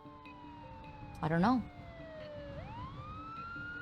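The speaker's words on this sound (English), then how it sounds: "The sharp wail of an ambulance siren cuts through the wind and snow" An ambulance siren wails through wind and snow in the video game Love and Deepspace: a faint, steady tone that slides down, then swings back up, over a low windy hiss, with a brief spoken word partway through.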